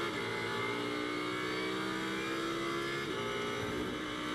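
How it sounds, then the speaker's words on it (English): A GT race car's engine holds a steady, loud, sustained drone onboard at the Paul Ricard circuit during a 1000 km race, with the pitch shifting slightly as the throttle is worked and no voices over it. "Just listen to the throttle."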